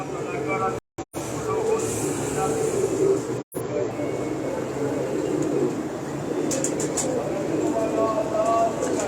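Rampuri pigeons cooing in soft, low, repeated coos against a steady background hum, with someone talking over them and a couple of brief dropouts.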